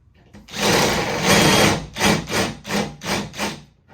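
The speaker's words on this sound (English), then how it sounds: "I bet you don't like me drilling holes in your hood." Power drill boring holes through the hood of a 2-door Jeep Wrangler JK while a JL hood latch is fitted, a sustained whirring grind followed by several short rhythmic bursts, close and loud.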